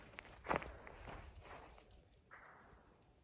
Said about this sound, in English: I think that's acorns and stuff falling on